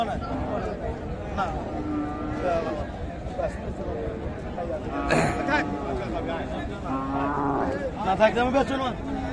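Cows moo repeatedly at a busy cattle market at Raniganj haat in Dinajpur, the drawn-out lowing rising over constant crowd chatter and nearby voices.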